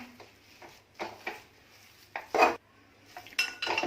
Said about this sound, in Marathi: हे मिश्रण आहे ते घट्ट होईपर्यंत अगदी ढवळून घ्यायचं